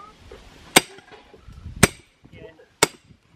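A rock is hammered as a wedge into a log outdoors, three sharp, loud strikes about a second apart, with quiet movement and faint voices between them.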